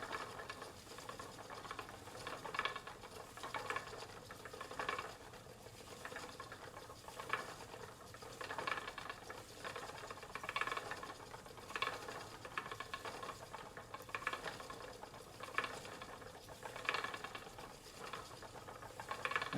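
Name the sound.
vintage Castle spinning wheel spinning wool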